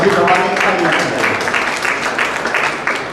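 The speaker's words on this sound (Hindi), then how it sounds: "जोरदार तालियां इनके लिए" Audience applause at a health talk on fasting, a moderate stretch of clapping mixed with voices and crowd murmur, holding fairly steady throughout.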